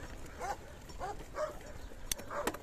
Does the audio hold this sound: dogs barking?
yes